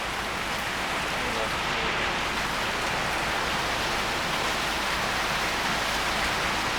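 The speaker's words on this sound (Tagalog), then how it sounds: "patilahin muna natin yung ulan" Heavy rain pours down steadily, a dense, unbroken hiss with no pauses from start to end.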